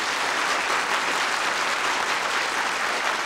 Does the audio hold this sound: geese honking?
no